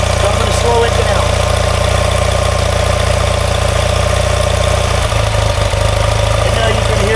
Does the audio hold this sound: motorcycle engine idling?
yes